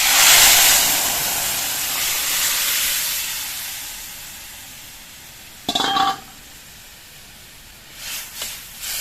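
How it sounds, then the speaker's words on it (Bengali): Jackfruit seed dal with vegetables poured into hot spice tempering gives a loud broad hiss that fades over several seconds, followed by short sharp sizzling bursts near the end. "এবার এর মধ্যে আমি সবজি দেওয়া কাঁঠালের বীজের ডালটা ফোড়ন দিয়ে দিচ্ছি।"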